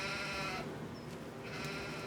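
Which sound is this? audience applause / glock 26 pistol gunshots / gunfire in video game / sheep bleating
sheep bleating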